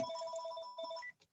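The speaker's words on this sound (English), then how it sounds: "I'm so sorry that the phone's ringing." A telephone ringtone plays a steady electronic tone pattern that is quiet and continuous before it cuts off abruptly, with a brief faint blip afterward.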